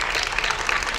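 A group of schoolchildren claps together during a classroom running-and-statue game, a brief dense burst of applause filling the room.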